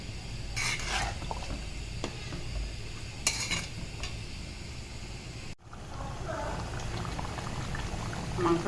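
Beef curry with spices cooking in a pot, a steady bubbling simmer broken by a few sharp clinks and scrapes from a utensil against the pot.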